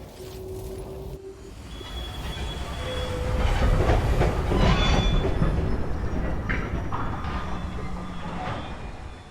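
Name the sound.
train ride in the video game Cronos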